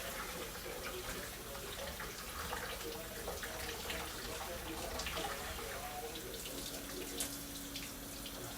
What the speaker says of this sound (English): Okay, to get this rinsed off with the cold water,